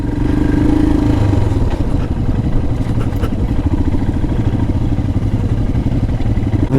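A Royal Enfield Himalayan 411 motorcycle engine-braking in first gear down a wet, slippery green lane, a loud, steady low engine drone with a brief higher tone near the start and rattling clatter throughout, close and continuous without speech.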